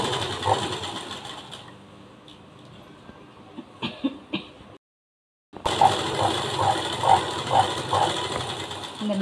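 A sewing machine stitches a band onto a blouse, running in a mechanical rattling burst, stopping briefly with a few clicks, then a short silence before a louder stretch of stitching resumes.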